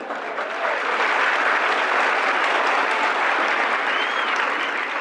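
Dense, sustained audience clapping fills the hall at a Marathi motivational lecture, loud and continuous without a break.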